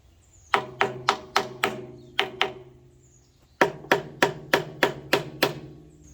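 A hammer taps on the cylinder head of a 1936 Farmall F30 tractor: two close runs of sharp metallic strikes, about six, then two, then seven blows in quick even rhythm, loud and near with nobody talking.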